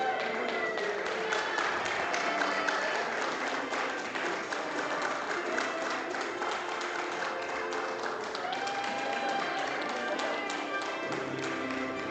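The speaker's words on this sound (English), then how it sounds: "Please give a big round of applause." An audience applauds athletes at a Special Olympics powerlifting championship, a steady, dense patter of clapping lasting the whole stretch, even in level and moderately near, with faint crowd murmur underneath.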